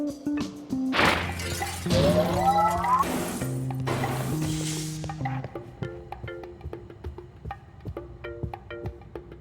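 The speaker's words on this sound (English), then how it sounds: "Unfortunately, the breaking of this glass is a necessary evil." Glass shatters in the video game Quantum Conundrum, a sharp crash followed by a second burst of breaking, then scattered tinkling shards settling over a sustained synthetic tone.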